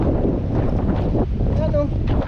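Strong coastal wind buffets the microphone in a steady, loud rumble by the sea, with a brief faint tonal whistle near the end.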